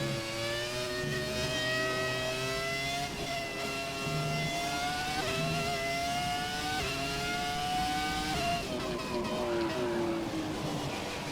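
A Ferrari F2004-style V10 Formula 1 car in the F1 2017 racing game screams near 19,000 RPM, a loud, sustained high-pitched wail with rising and falling gear-shift sweeps, continuous and close throughout.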